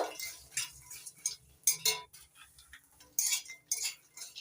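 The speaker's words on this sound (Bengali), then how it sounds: "নাড়াচাড়া করে ভেজে নিচ্ছি সব কিছুর সঙ্গে একসঙ্গে।" Makhana (fox nuts) being stirred and dry-roasted in a pan with other ingredients make scattered light clinks and scraping ticks of a utensil against the pan, soft and intermittent.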